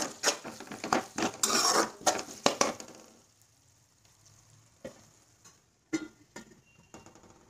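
Vegetables sauté in oil and butter in a pan while a utensil stirs and scrapes. The clattering stirring is loud and busy at first, then fades to a soft sizzle with an occasional scrape.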